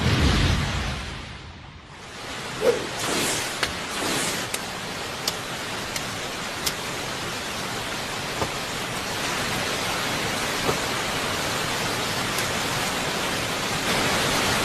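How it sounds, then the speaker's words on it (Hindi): Steady, dense rain pours in an anime battle scene, a broad even wash of noise that dips briefly near the start, with a few faint sharp ticks scattered over the continuous downpour and no talk. "बारिश हो रही है"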